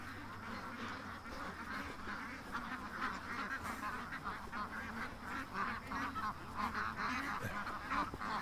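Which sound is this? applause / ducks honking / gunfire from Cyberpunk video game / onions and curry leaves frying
ducks honking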